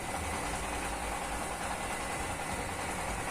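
Rice huller engine running at low RPM, a steady, dense mechanical drone with a continuous idling rumble and knocking vibration that stays constant and close throughout, with no pauses or talk.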